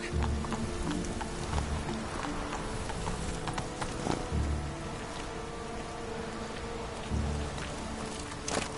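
Roach, Geralt's horse in The Witcher 3, gallops with steady rhythmic hoofbeats close by, layered over a continuous wash of rain and ambient game noise.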